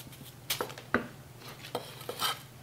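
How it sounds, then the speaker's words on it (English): An onion cut into thin slices on a board for a tomato bean bread salad, with a quiet series of irregular knife taps and clicks of the blade against the wood. "now I'm just going down into very thin slices and slicing this"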